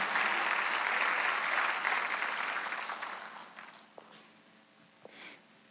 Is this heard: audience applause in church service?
yes